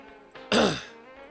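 A single sharp throat-clearing cough, close and fairly loud, rising abruptly and fading within about half a second, with no talk around it.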